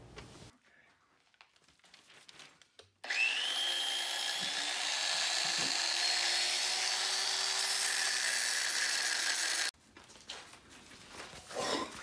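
Cutter grinding through aluminum casting stock, a steady high-pitched whine that starts abruptly, holds for about seven seconds close up, then cuts off, with quieter shop noise before and after.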